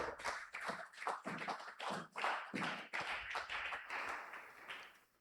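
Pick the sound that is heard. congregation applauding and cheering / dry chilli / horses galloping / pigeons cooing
congregation applauding and cheering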